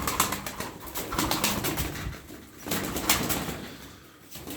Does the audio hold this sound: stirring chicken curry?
no